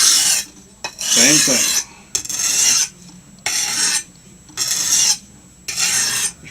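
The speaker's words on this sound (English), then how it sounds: "And when you go sharpening a knife, you should do it for the first few times until you get the hang of sharpening a knife." A kitchen knife being sharpened by hand, the blade run back and forth in repeated rasping strokes, about six bursts with short pauses between them, close and fairly loud, with one brief spoken remark.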